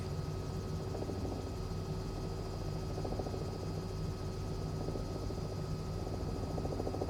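A Cowansim Robin helicopter in Microsoft Flight Simulator 2020 drones with a steady, unbroken rotor and engine hum, constant in loudness throughout with no talking.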